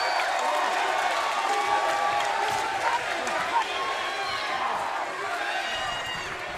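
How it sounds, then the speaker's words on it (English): The crowd at a Turning Point wrestling event during an AJ Styles, Christopher Daniels and Samoa Joe match keeps up a steady, distant arena murmur with scattered shouts, while commentators talk over it. "Crowd here at Turning Point, so respectfully watching this great competition."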